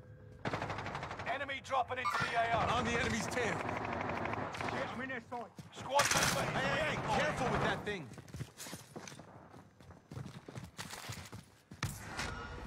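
Rapid gunfire bursts from a multiplayer video game shooter with AT mines and shotguns, loud and continuous throughout, with a player talking over the shots.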